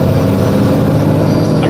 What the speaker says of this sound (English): That's the regen rumble we got going on right now.